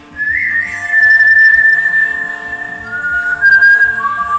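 A man whistles a tune from The Rocky Horror Picture Show, loud and close, holding long melodic notes that slide between pitches over a soft low accompaniment, with no talking.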